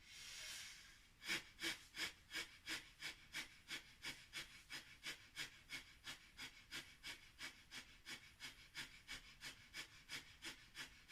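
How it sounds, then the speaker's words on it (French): Breath of fire during an active meditation: after one long inhale, about twenty-five quick, rhythmic forceful nasal exhalations pulse steadily, close and soft, with no talking. "Et on se prépare pour la quatrième respiration de feu."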